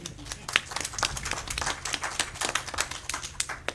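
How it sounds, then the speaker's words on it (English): An audience at an ACEK Future Leaders conference plenary session claps in a brisk, uneven patter of many hands, moderately close and lasting a few seconds, with some voices mixed in. "Why don't you clap to that?"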